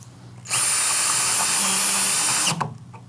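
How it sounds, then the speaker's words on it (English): A power drill drives self-tapping screws into an aluminum sliding glass door clip on a panel, with one loud sustained whine lasting about two seconds that stops abruptly, close up. "with these self-tapping screws, we're going to fasten this clip into this panel"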